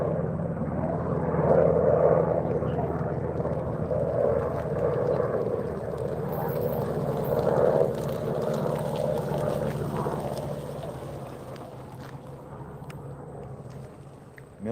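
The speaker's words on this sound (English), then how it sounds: "Military choppers." Low-flying military helicopters pass overhead, producing a loud, continuous rumbling drone that swells and eases several times before gradually fading.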